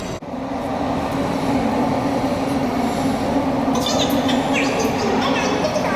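Trains at London Waterloo station rumble with a steady low drone and faint metallic squeals, carrying a busy, echoing station ambience under crowd chatter.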